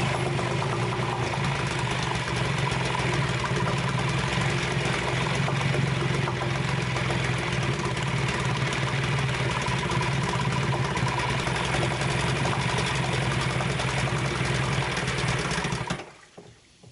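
A Western Auto 5 hp outboard boat motor with its choke open runs steadily and loudly for about sixteen seconds. The small engine's busy, buzzing drone stays close and constant, then cuts off abruptly near the end.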